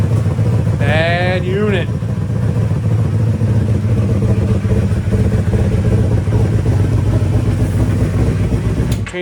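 An abandoned 1985 Honda Magna motorcycle engine runs at a loud, steady idle throughout, with a short revving flourish near the start. A voice speaks briefly over it.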